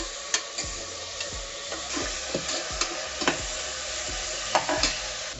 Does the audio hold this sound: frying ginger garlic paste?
yes